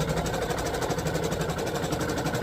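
An embroidery machine stitching a second pass over quilted finger-mitt fabric gives a steady, continuous mechanical whir with rapid needle pulsing, close and unbroken throughout.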